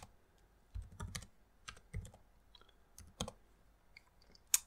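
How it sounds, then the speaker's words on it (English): Keys clack on a computer keyboard as a Linux mount command is typed, in short bursts of crisp, close clicks separated by brief pauses, with no voices. "we're going to go ahead and type in the file path of our device,"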